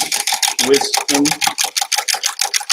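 Whisk beating two extra large eggs in a bowl while making Southern soul food cornbread dressing, a fast rhythmic clicking and tapping that continues steadily throughout, with a person talking briefly over it.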